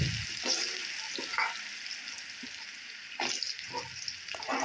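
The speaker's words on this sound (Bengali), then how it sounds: "উস্তেটা ভেজে নিচ্ছি, নিয়ে তুলে নিয়ে তারপর ওই তেলেই একটু রাঁধুনি ফোড়ন দিয়ে তারপর আলু আর উস্তে কাটা এগুলো দিয়ে দিচ্ছি" Bitter gourd and potato pieces fry in hot oil tempered with radhuni seeds, giving a steady close hiss and crackle with a few sharper sputters and stirring scrapes.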